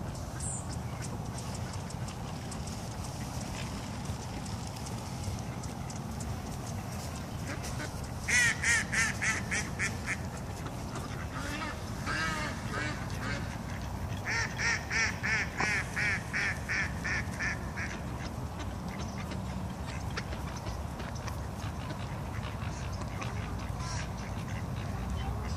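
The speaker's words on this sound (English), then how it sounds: "You can't hold these ducks. These are wild ducks." Wild ducks quack in rapid clustered bursts at a moderate distance outdoors, rising over a constant wind-like background hiss, with several calling sequences spread across the stretch.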